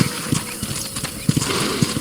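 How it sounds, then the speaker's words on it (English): Horse hooves clip-clopping on a ranch in Red Dead Redemption, a steady, uneven trot, close and fairly loud, with soft background ambience. "let's see if you can still ride a horse"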